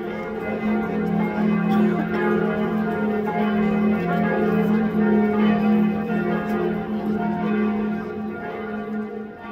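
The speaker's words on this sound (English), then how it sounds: "being so right up there with the bells ringing" Church bells in Munich ring continuously in a dense, overlapping peal with a steady resonant hum, fairly loud and carrying, heard from right up near the bells.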